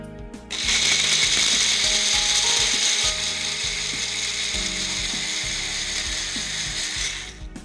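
A countertop blender whirs steadily through a banana and milk smoothie, a loud continuous motor roar that starts abruptly and runs for several seconds with no talking over it.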